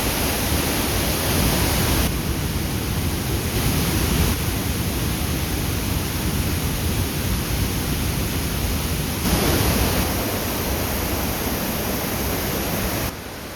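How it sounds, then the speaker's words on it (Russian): A cascading waterfall on the Zhigalan river in the taiga, one of a chain of five falls, roaring as a steady, loud broadband rush that fills the whole stretch. "Жигаланские водопады – это каскад из 5 водопадов на реке Жигалан."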